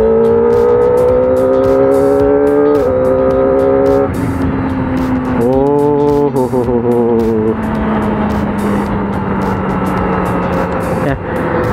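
A Kawasaki ZX25R motorcycle accelerating hard on a road, its high-pitched engine note climbing through several gear shifts with wind rush over the top. The engine is loud and close throughout.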